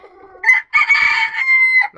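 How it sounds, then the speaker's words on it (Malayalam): Old hen in a mixed backyard flock of chickens and pigeons gives a short cluck, then a loud, drawn-out crowing call close by, ending with another brief cluck; no talking. "നമ്മുടെ മുത്തശ്ശിക്കോഴി."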